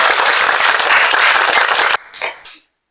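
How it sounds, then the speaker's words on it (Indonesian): Classroom applause after a correct answer in a biology lesson on cells: dense, close clapping from students for about two seconds, then cutting off abruptly with a short trailing burst of claps and noise. "Kasih tepuk tangan dulu."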